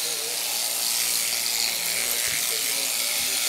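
Electric shears buzz steadily while cutting wool from a ram, a continuous close mechanical hum with slight shifts as the blades move through the fleece.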